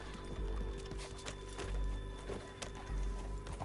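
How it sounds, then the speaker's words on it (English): Horse hooves galloping in Red Dead Redemption 2, a steady rapid clip-clop of several riders' mounts over low rumbling ground noise, with a possible whinny, fairly close and loud. "Mount your horse."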